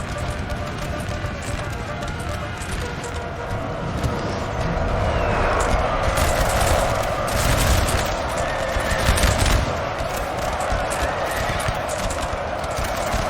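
Massed musket volleys ring out in a Napoleon Total War battle, flanking fire from Rheinbund infantry crackling steadily over a dense din of combat and hoofbeats, swelling louder around the middle before settling back.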